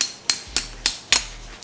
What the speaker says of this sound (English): And you're basically just gonna